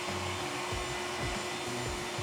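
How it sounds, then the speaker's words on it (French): A Lefant M210 Pro Omni robot vacuum cleaner runs across a dirty floor, giving a steady, close, unbroken motor whir and suction hiss with faint low bumps. "On va voir si ce robot aspirateur s'en sort et nettoie tout ça"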